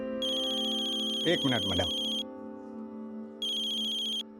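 A mobile phone ringtone for an incoming call, with a bright repeating melody that plays for about two seconds, stops, then starts again near the end. Someone speaks briefly over the first burst, and a quieter steady background runs throughout.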